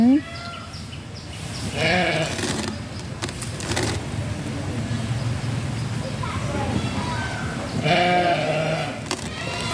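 Sheep bleat several times against chatter of nearby people while being fed bread, the calls rising above the noise at the start, middle and near the end.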